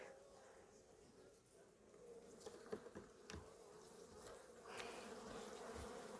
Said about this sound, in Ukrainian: бджоли плотно обсідають